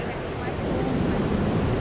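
Rough ocean surf pounds a beach in Itacaré, Brazil, a loud, continuous broadband roar of breaking waves with gusty wind buffeting the microphone.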